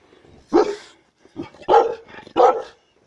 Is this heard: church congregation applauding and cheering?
no